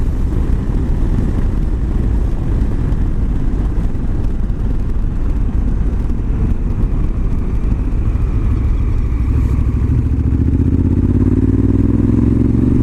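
A Honda Africa Twin motorcycle with automatic drive rides back roads, its engine a steady, loud rumble throughout that swells toward the end as it climbs through gears.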